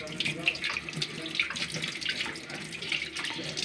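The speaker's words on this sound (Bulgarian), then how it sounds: "След като са добре накиснати, започваме да ги миеме. Хубаво е да са със студена вода." Pig kidneys are washed under a cold kitchen tap, with water running steadily into the sink and splashing over the meat as it is handled, close and constant throughout.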